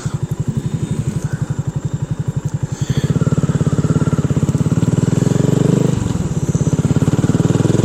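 A BSA Gold Star motorcycle ridden through the Potteries in Staffordshire gives a close, rhythmic single-cylinder thump that opens into a louder, denser engine roar partway through as it pulls away.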